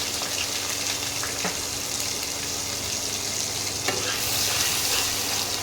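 Onion paste goes into hot oil for a mutton dish and is stirred: a loud, continuous crackling sizzle with scattered spatters, heard close up and alone.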